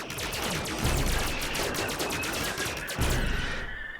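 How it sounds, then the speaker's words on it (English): Rapid weapon fire from a RimWorld battle: a dense, continuous stream of quick repeating shots over about four seconds, loud and steady with faint voice underneath. "Oh, and it's so many shots."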